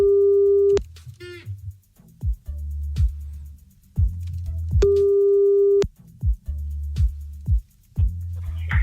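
A telephone line during a radio call-in, with repeated steady tones that cut on and off, short clicks and a rising chirp between them, loud and close with no talking.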